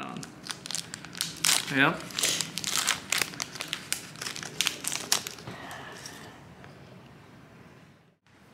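Plastic wrapping on a Pokémon card pack being cut and torn open, with crinkling and crunching through the first half and people talking over it throughout.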